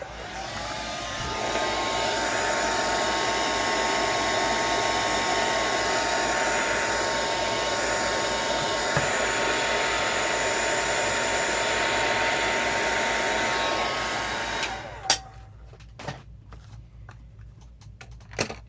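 A hair dryer blows steadily and close up, drying paint on an art journal page, then cuts off, leaving a few light taps and handling clicks.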